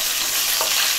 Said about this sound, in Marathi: मोहरी आणि जिरं आपलं तडतडायला लागलं